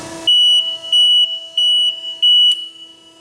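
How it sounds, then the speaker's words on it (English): Buzzer of an Extrude Hone 77A abrasive flow deburring machine sounds four times in a row, steady high electronic tones in an even on-off rhythm, loud and clear, with a short mechanical clunk at the start and a faint click near the end. "we get the buzzer."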